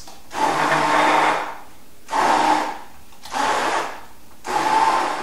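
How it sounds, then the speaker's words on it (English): A hand blender whirs through red cabbage in four bursts, each running a second or so with short pauses between, a loud grinding motor close by. "Now I have to hand blend this."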